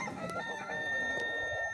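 Backyard farm chickens cluck and murmur close by in a brief burst, a few soft calls overlapping over a faint background.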